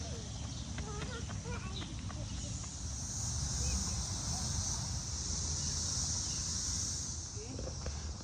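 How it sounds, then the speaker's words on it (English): Cicadas buzz outdoors in a continuous high, shimmering drone that swells slightly in the middle, with faint rustling and a person talking softly nearby. "You found a cicada there, Rumi?"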